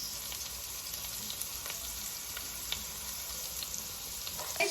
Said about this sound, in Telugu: మంచిగా మిక్స్ చేయాలి గైస్ అన్ని వెజిటేబుల్స్